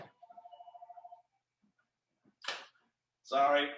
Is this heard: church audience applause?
no